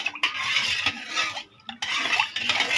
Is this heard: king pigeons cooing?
no